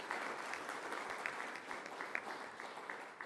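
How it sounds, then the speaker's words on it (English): An audience at a petroleum local content policy consultation in Walvis Bay applauds the panelists, quiet, fairly distant clapping that continues steadily for a few seconds. "May we please give our panelists another round of applause,"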